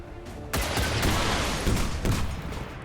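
Micro missiles firing in XCOM 2 (War of the Chosen): a sudden loud volley bursts in after a quiet start, a continuous roaring barrage with a few sharper impacts near the end.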